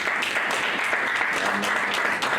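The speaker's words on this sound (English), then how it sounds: "Good round of applause." A crowd applauds at a ribbon-cutting for an official launch event in Kenya, a brief, dense, continuous patter of clapping heard on its own.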